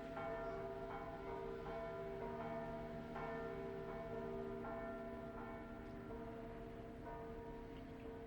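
The big bell of St. Leon in Cottonera, Malta, rings in a slow, steady rhythm, each deep resonant stroke overlapping the lingering hum of the last, heard alone at a moderate distance.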